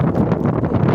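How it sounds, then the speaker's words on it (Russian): Strong hurricane wind of about 30 m/s blows in snowy, cold Chuvashia, a loud continuous roar that buffets the microphone without letup. "Ветрено"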